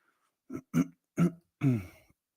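Four short, separate throat-clearing coughs come close and fairly quiet, spaced unevenly with brief silences between, the last one longer and rougher, from someone with a tickly chest.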